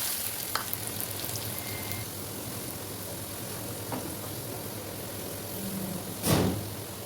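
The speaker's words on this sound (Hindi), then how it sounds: "एक पैन में ऑयल गरम करेंगे और प्याज को गोल्डन ब्राउन होने तक फ्राई करेंगे।" Chopped onion frying in hot oil in a pan, a steady close sizzle and crackle running throughout with a few brief louder clatters, one near the end.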